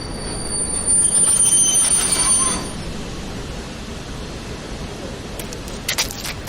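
A train pulling into a station, its wheels squealing loudly for the first few seconds before fading into a steady rumble, with a few sharp clanks near the end.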